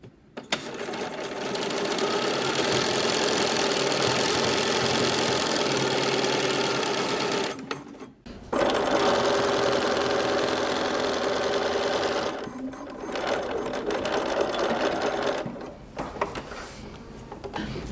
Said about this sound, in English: So we're just going to top stitch all the way around.